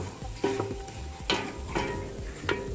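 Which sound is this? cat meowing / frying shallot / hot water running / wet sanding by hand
frying shallot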